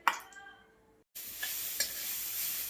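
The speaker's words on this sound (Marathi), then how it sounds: "तूप गरम झाले की आपल्याला हे बीट त्यामध्ये भाजून घ्यायचं आहे या तुपामध्ये 5 ते 7 मिनिट." Beetroot roasting in hot ghee and stirred in a pan: a brief scrape, a moment of silence, then a steady close sizzle with a few sharper stirring scrapes.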